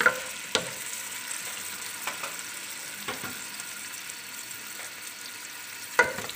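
Chopped onion sizzles steadily in hot oil in a pan while being stirred for makhni aloo palak, with a constant fry hiss and a few sharp spoon scrapes near the start and end, no voices.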